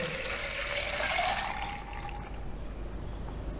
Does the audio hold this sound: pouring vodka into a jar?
yes